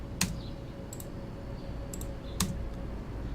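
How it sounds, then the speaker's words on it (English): Computer keyboard keys tapped while drawing in AutoCAD, a few sparse clicks and clacks spaced irregularly over a steady low room hum, close and fairly quiet, with no talking. "listen to the sound sequence of the keyboard"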